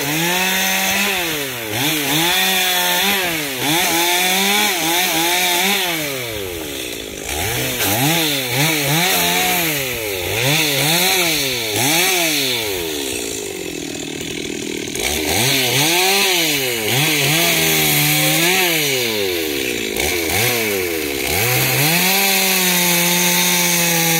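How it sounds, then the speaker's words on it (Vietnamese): A chainsaw revs and bites repeatedly into a large golden wattle tree, its engine pitch rising and falling in rough cycles, loud and close, with no talking. "Rồi cưa đây."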